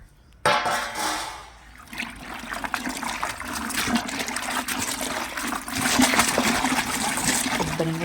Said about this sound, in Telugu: ఫస్ట్ అయితే 2 సార్లు 3 సార్లు ఇలా ట్యాప్ కింద పెట్టుకొని కడుక్కోవాలి